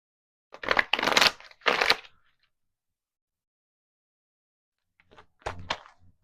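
Tarot cards shuffled by hand in bursts of riffling and flicking, a cluster of three quick shuffles, a pause of quiet, then a shorter set of card flips, close and fairly crisp.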